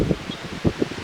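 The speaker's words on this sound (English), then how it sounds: "I'm gonna apologize for the wind ahead of time." Gusty wind buffets a microphone outdoors beside a 2010 Chevy Impala project car, coming as low rumbling bursts that swell and fade, loudest around two brief gusts, with no talking.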